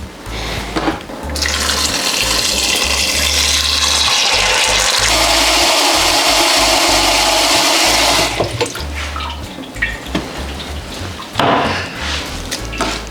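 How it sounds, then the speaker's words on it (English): Tap water pours steadily into a cooking pot of beans being prepared for a Mexican vegan dish, a loud continuous rush lasting several seconds, then tapering to lighter splashing and handling sounds. "I'm gonna add water depending on how much beans do you have."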